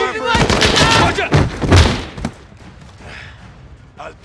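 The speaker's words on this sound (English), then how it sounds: "The gunshots, of course." Gunfire in Call of Duty Modern Warfare, a loud burst of rapid, close shots for about two seconds, then scattered fainter shots and thuds as the firing dies down.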